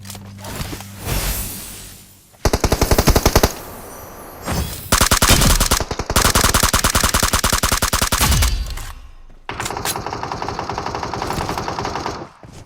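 Bursts of rapid automatic gunfire, loud and close, come in several long volleys separated by short pauses.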